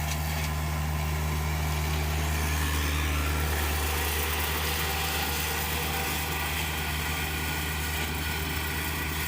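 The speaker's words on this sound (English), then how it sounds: "I'll let you hear the tractor talk and the noise." A tractor pulls a Tar River drum mower through hay, its engine rumbling loud and steady close by with a constant low drone and a broadband mechanical whir.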